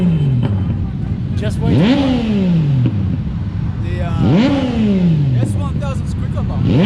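Motorcycle engine revving hard several times, with rising and falling pitch sweeps like a roar, loud and close, set beside an anniversary-edition sport bike at a charity Santa ride; people talk over it.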